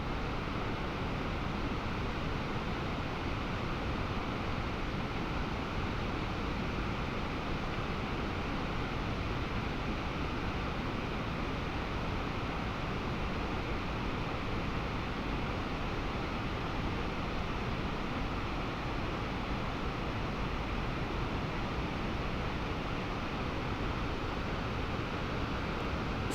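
Sultan waterfall on the Jily-Su mountain road rushes in a steady, dense roar of falling water, constant and unbroken throughout, with no voices over it.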